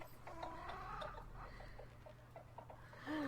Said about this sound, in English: I am constantly hearing chickens.